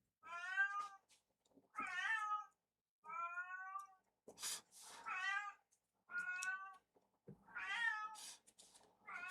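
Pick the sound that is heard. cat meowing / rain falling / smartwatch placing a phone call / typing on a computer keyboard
cat meowing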